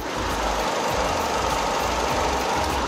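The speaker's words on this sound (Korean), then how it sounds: "그럼 제가 바로 이어서 엔진 소음 한번 담아보도록 하겠습니다." A gasoline SM5 sedan's engine idles quietly and smoothly, a steady, even hum with no belt squeal or knocking, recorded close to the engine bay with no talk.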